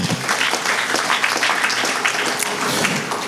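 A congregation at a memorial service claps for the Lord, a full, steady round of applause from many hands, loud and continuous throughout.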